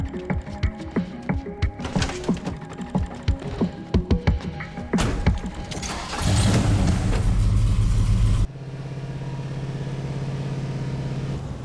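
A car engine idles and pulls away in a movie scene, a steady mid-low hum rising after a burst of rumble and clatter, then settling into a constant drone with music-like tones over it.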